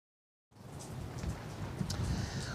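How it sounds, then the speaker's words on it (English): After a brief silence, steady rain begins, a dense continuous patter of drops falling on surfaces nearby. "It's starting to rain pretty good."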